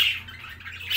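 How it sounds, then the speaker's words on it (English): Pet cockatiels calling in a brooder room setup, a steady run of bright chirps and squawks that swell loudest at the start and end, close by, with no talking. "The cockatiels right there."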